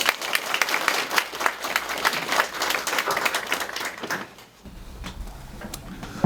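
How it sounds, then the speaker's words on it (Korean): Audience applause in a lecture hall greets a Megastudy academy chairman arriving to give a talk on college admissions strategy, dense steady clapping for about four seconds that suddenly drops off into quiet room tone. "큰 박수 부탁드립니다."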